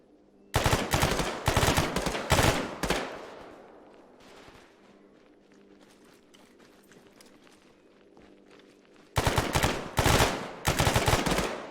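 Loud bursts of rapid gunfire during a security training exercise, fired in clusters at the start and end with a quieter gap between where faint footsteps and movement are heard.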